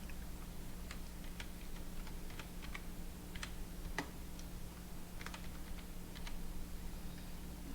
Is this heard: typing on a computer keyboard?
yes